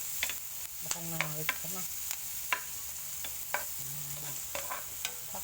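Onion frying in dairy cream used as cooking fat, a low sizzle under repeated spoon clacks against the pan, with brief speech and hums breaking in now and then.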